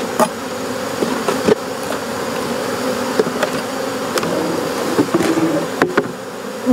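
Honey bees swarm around an open hive during a colony split, a dense continuous buzz close by, with faint knocks and clicks of hive frames being handled.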